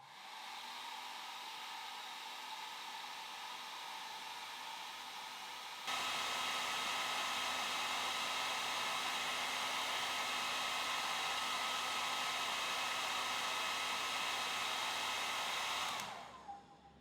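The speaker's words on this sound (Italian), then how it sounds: "adesso facciamo andare un asciugacapelli per 5 minuti, è un piccolo asciugacapelli da viaggio" A small travel hair dryer powered by a portable battery station blows with a steady whooshing hum, switching to a louder setting partway through, then shutting off and winding down near the end, with no talking.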